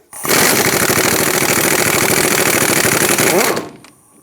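A 13mm socket on an extension hammers at a rust-seized upper steering shaft bolt on a 2003-2009 Dodge Ram 2500, a loud, continuous, rapid mechanical rattle lasting a little over three seconds before cutting off abruptly.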